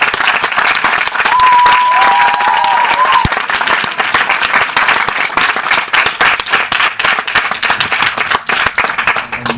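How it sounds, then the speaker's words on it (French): Loud, dense applause from an audience honouring the speakers at a mock trial of Robin Hood, sustained throughout with a brief whistle near the start, thinning slightly toward the end. "j'aimerais féliciter vraiment tous les orateurs avec un très grand applaudissement pour tous"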